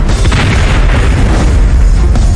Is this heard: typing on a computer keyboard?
no